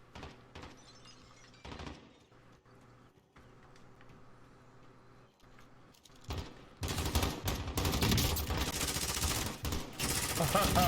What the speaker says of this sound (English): So they were shooting at somebody